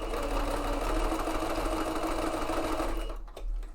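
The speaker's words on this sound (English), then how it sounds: "please tell me if the sewing machine is too loud" A sewing machine running steadily at speed while stitching a mock-up, a continuous close, even whirring hum that stops abruptly near the end with a brief mechanical clunk.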